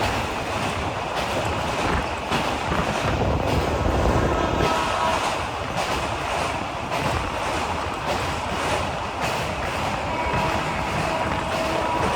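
Kaziranga Express passenger train running at speed over a bridge, a continuous loud rumble and rattle of wheels and carriages with rhythmic clacks, heard from inside the train with no talk.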